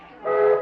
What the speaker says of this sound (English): Harold, there's the whistle. Yeah, Pete, that's a signal.